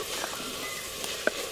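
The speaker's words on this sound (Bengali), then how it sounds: "পেঁয়াজ আর রসুন ভালো করে ভাজা ভাজা হয়ে গেছে।" Onion and garlic frying in a clay pot give a steady, faint sizzle throughout, with a couple of brief stirring clicks standing out.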